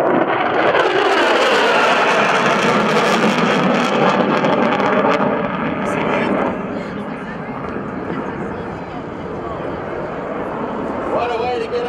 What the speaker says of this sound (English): Right about now, we're into burner, and here we go.